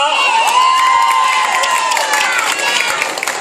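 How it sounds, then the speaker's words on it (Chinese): A crowd cheers and applauds loudly after a kindergarten children's stage performance at a Kaohsiung preschool event, with shouts, whoops and dense clapping blending into a continuous roar. "我们再次那个掌声好不好？"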